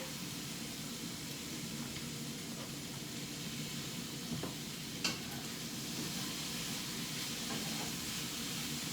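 Quartered artichoke hearts sizzling in a hot pan, with a steady, loud frying hiss throughout and a brief clatter near the middle.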